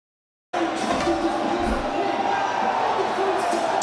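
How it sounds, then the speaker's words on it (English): A watch party crowd cheers a Team USA soccer goal. A broad, steady roar of many voices starts abruptly and holds loud and sustained from a distance throughout. "it sounds like Team USA just scored a goal based on the crowd down there"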